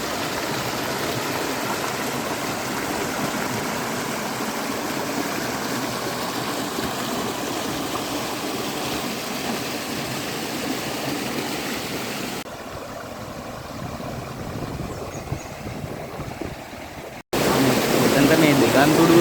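Water flows into a forest spot from two sides as a steady, hissing stream rush that continues evenly at moderate volume, briefly dipping quieter before surging louder again near the end.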